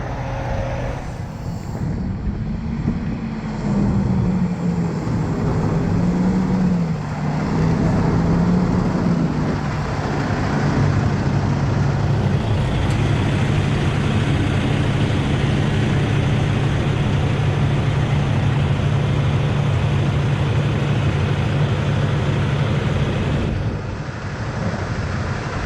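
A truck in drive slowly pulls forward, its body drawn off the two wheels left in place; a loud, steady low engine drone with a shifting rumble runs continuously throughout, no voices.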